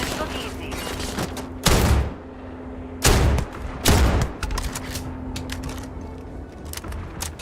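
Shotgun rifle fire in Starfield: three heavy booming blasts spaced about a second or more apart, each sharp and loud, under steady background game hum and intermittent talk.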